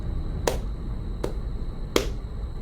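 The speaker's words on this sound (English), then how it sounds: "Then, I hear clapping." Three slow, sharp single claps, evenly spaced and crisp, stand out alone over a low steady hum inside a car during an eerie night drive.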